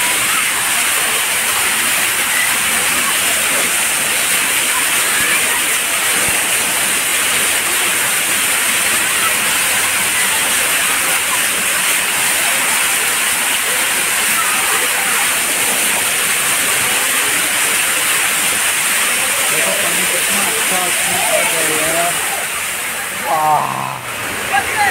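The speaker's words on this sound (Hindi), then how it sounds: "पानी कितना अच्छा गिर रहा है, देखो गाइस" Water pours steadily into a pool at Hussain Sagar, a constant, loud, close rushing roar lasting throughout, with a voice faintly present beneath it.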